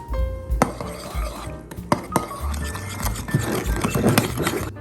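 Garlic, salt and black pepper being stirred into meat for sisig in a bowl, with soft squelching, scraping and a few sharp clinks of a utensil against the dish.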